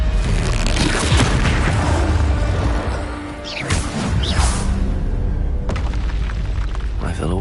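The Expelliarmus spell in Hogwarts Legacy is cast with a sweeping whoosh and a deep, booming impact, followed by further swishes and bursts over a loud, rumbling battle backdrop.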